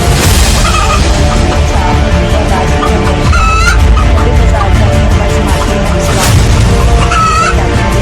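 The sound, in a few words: chickens at a market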